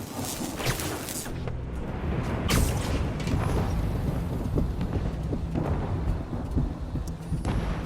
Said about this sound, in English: I'm at a high risk for lightning strikes